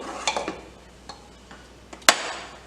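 Boiled chickpeas are stirred into masala in a pan, giving soft scraping with light utensil taps against the pan and one sharp metallic knock near the end, fairly quiet and up close.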